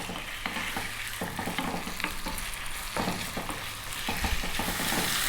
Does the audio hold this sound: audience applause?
no